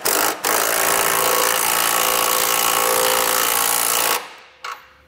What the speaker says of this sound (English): For the bottom nut there, you can tighten that down with an 11/16 size socket.